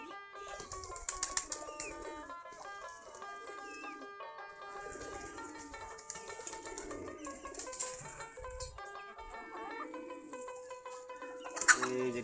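A flock of native Giribaj pigeons drinking and walking about makes soft coos and repeated bursts of wing flapping. Steady chirping and other bird calls run throughout, with a sharper flutter near the end.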